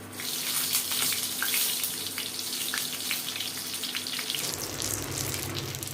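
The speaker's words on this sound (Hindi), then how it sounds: "तेल गरम हो गया है, इसे लो फ्लेम में ही भूनना है हमें। हम बैगन को भून लेते हैं।" Eggplant frying in hot oil over a low flame, a steady dense hiss and sizzle that stays fairly loud and even throughout, with no voices.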